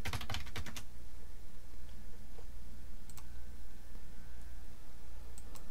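Quick burst of close keyboard typing as a password is entered on a computer running Linux Mint Cinnamon, then a few isolated faint clicks in a quiet room.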